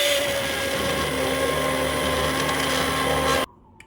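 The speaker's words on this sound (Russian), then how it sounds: "взбиваю грибной суп блендером" An electric blender whirs steadily through mushroom soup in a pot, a loud continuous motor drone that cuts off abruptly near the end, leaving quiet.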